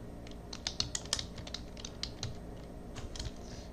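Quick, light keystrokes on a computer keyboard, entering a cell label in a spreadsheet, tap in an uneven patter at close range over a steady low room hum.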